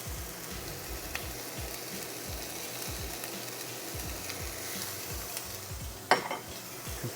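Onions and celery cook in a pan with a soft continuous sizzle, steady throughout, with a brief utensil clink near the end and no talking.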